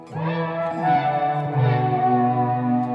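A Meris Enzo X synth pedal turns sustained tones into a warbling, echoing wash, with layered pitches sliding and shimmering.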